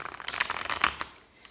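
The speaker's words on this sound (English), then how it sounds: "One more shuffle for my Cancers." Tarot cards are shuffled by hand in a quick riffling flurry of soft papery flicks and snaps, close and moderately quiet, tapering off after about a second.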